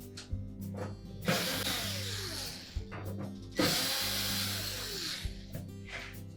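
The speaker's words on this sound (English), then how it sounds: "we need to remove these 5 screws that secure that access panel. These are a number 2 Phillips screw." Number 2 Phillips screws are backed out of the rear access panel on a Samsung range with a power driver: close, repeated whirring bursts with short pauses between screws and no talking.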